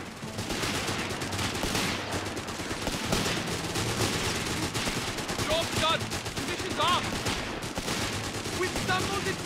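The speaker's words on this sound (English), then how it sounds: "We've stumbled into a firefight here!" Dense gunfire rattles through a firefight in Company of Heroes 3, with repeated machine-gun bursts and scattered shots continuing throughout, mixed with battle noise and soldiers shouting.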